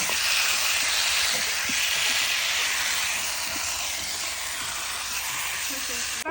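Meat being sautéed in a pot in a home kitchen: a continuous broadband sizzle and hiss that runs evenly throughout, with a few faint clinks underneath.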